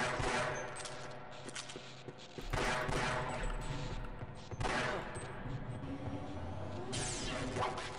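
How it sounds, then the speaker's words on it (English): Rapid automatic gunfire from a weapon in the video game Half-Life: Opposing Force, sustained bursts of loud, close shots with a mechanical, whooshing wash, dipping and resuming over several seconds with no voices. "I didn't mean to use that gun."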